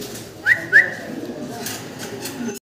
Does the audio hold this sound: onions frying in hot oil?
no